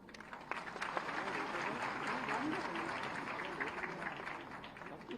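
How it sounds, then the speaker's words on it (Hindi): Women applaud at a Mission Shakti award and honours ceremony: a steady, moderately distant wash of many hands clapping, with a voice talking over it. "ताली बज जानी चाहिए"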